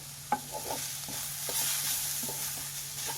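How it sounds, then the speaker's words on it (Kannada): Turmeric and garam masala frying in a pan: soft, close scraping strokes of a stirring spoon come in an uneven rhythm over a faint, constant sizzle, with no voices. "ಇಷ್ಟನ್ನು ಚೆನ್ನಾಗಿ ಫ್ರೈ ಮಾಡ್ಕೊಳ್ಳಿ"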